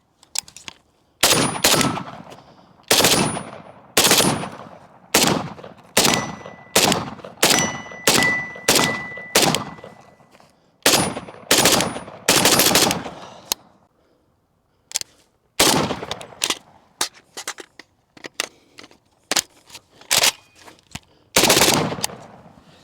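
A cheap budget AK rifle fires loud, sharp shots close by, in quick bursts and runs of single rapid shots with brief gaps between strings. The metallic reports echo and there is no talk.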